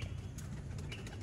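Pigeons coo on a Lahore rooftop, a soft low burbling close by that runs throughout the short moment with no talk.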